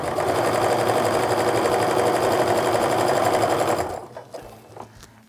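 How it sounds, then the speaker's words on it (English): A sewing machine runs steadily, stitching a seam on a starburst quilt block with a dense, rapid mechanical chatter for about four seconds before stopping, leaving faint handling noises. "I'm just gonna sew down to complete the seam"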